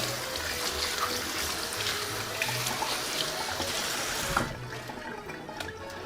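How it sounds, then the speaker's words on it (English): Hands being washed under a running tap, a steady close rush and trickle of water that stops partway through, leaving a quieter, lighter dribble. "I'll just wash my hands."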